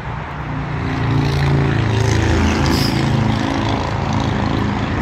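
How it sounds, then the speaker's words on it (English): A loud engine drone swells and holds steady for several seconds, a buzzing motor passing close by without any talking. "A little motorcycle came by."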